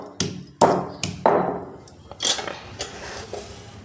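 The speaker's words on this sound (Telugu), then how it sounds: "ముందుగా ఎల్లిపాయలను పొట్టు తీసుకొని రోల్లో వేసుకొని ఇలా దంచుకోవాలి." Peeled garlic cloves pounded in a stone mortar, a few sharp ringing thuds at an irregular pace, close up, followed by softer grinding knocks.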